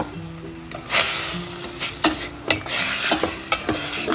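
Beef stir-fried with curry paste in a pan, a soft sizzle broken by repeated scraping strokes and clanks of a spatula against the pan at an uneven rhythm.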